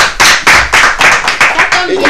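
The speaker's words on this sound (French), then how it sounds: "Applaudissements" A small group claps in a quick, even rhythm, about eight sharp bursts close by, with a voice starting to speak near the end.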